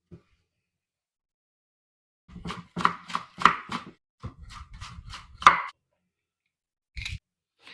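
A knife chops pepper and parsley on a board, a quick run of crisp, close knocks, a short pause, then a few more cuts, with near silence at the start and end.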